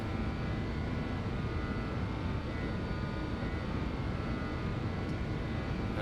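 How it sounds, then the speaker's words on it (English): A JustFlight BAe 146 airliner in the X-Plane 12 flight simulator accelerates for takeoff, a steady, dense engine roar with a broad rushing hiss that holds even and unbroken throughout, with no voices. "Aircraft is accelerating."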